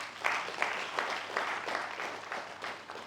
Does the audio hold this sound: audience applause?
yes